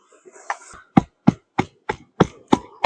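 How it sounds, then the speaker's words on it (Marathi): Green chillies and peeled garlic are pounded in a stone mortar with a pestle, giving about nine sharp, evenly spaced thuds close by, each a crisp knock with a little crunch. "तर आपल्याला खलबत्त्यामध्ये एकदम बारीक करून घ्यायचा."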